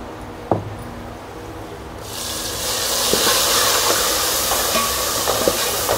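Masala frying in a pan with browned onions: a faint background with a single clink gives way to a loud, steady sizzling hiss, with a few soft taps underneath.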